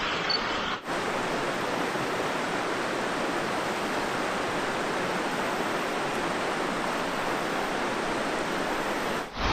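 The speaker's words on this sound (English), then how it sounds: "Water coming over that, that's really pretty." Creek water pours over a ledge of rock below a bluff, a steady, full rushing wash that stays loud and unbroken from start to finish.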